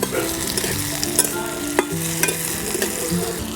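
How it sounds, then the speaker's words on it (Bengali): Chopped tomato and capsicum fry lightly in ghee, giving a close, continuous sizzle broken by frequent spatula scrapes and taps against the pan. No one speaks. "ক্যাপসিকাম কুচো টমেটো কুচো ভাজা হয়ে গেছে"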